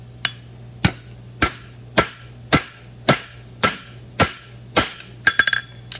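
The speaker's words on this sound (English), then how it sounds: "my hammer blow is going to be what I call a half blow" Nine sharp half blows of a hammer on a horseshoe ring out at a steady, even pace, each with a short metallic decay, ending in a quick cluster of lighter taps.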